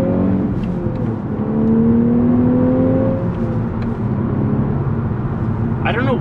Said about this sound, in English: I don't know what it is about that engine sound, but it sounds really, when you're inside the cabin, it almost sounds V10-ish